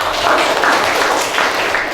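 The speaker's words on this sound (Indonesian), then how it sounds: "Ya, tepuk tangan." A small group of participants in an online Quran and Hadith teacher-training class claps briefly, a soft, even patter of hands lasting about two seconds with no voices over it.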